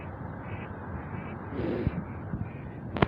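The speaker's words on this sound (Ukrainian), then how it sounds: "О, качка летить. Дві качки." A few duck quacks ring out outdoors from two ducks flying overhead, over a low, steady background hum.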